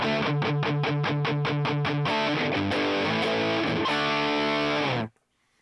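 Dry, chugging distorted electric guitar through a Line 6 Helix, palm-muted rhythmic strums followed by sustained chords, loud and upfront with no reverb, then cutting off abruptly into silence.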